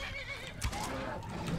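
A horse in Skyrim whinnies once, a short loud neigh over a steady bed of game ambience and low rumble, with a faint hoof-like thump near the middle.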